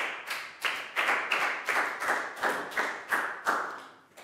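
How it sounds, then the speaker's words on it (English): Classroom applause for a student, a small group of pupils clapping in a loose rhythm of repeated bursts, close and fairly loud, fading at the end. "big round of applause for Prel"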